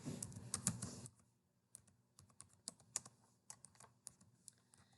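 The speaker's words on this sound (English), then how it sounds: "we're going to type in Constitution State here" Typing on a computer keyboard while entering text into an Excel spreadsheet, a quick run of clicky keystrokes after a louder opening clatter, near and quiet with no voice.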